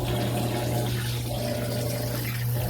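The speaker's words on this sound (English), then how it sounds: "the machine does agitate, and it also continues to add water periodically" Water pours steadily into the tub of a Whirlpool 4.7 cu ft white top-load washer with removable agitator during its soak cycle, a continuous close rushing with a low hum underneath.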